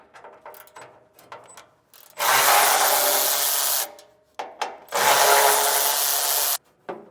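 A power ratchet tool removes 10mm bolts during the installation of a B&W Turnoverball underbed gooseneck trailer hitch, with two loud, steady whirring bursts of about two seconds each, separated by lighter clicks and handling noises, close up.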